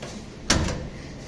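A single short, solid clunk as the door of a 1933 Chrysler is opened in a workshop, over faint steady background noise, with no talking.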